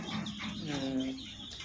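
Native country chicken chicks, day-old birds in care, cluck and peep softly and briefly over a busy, muffled background.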